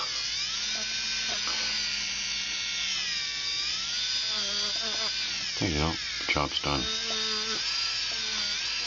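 Motorized pumice wheel polishing a four-claw jewelry setting gives a steady, close high-pitched whine with a slight pitch drift. Someone talks briefly over it near the end.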